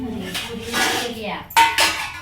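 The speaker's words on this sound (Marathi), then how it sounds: "आई लागली भांडी आपटा." Kitchen utensils and pots banged and clattered together during lunch preparation, with a couple of sharp metallic clanks standing out near the end amid ongoing voices.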